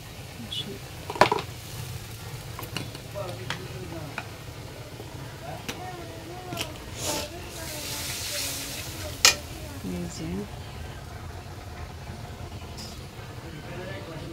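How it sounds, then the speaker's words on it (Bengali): Fish with cumin paste is braised and stirred in a pan, with a continuous sizzle, scraping spatula strokes and occasional sharp clatters. Voices talk in the background. "এই যে মাছ কষাইতেছি"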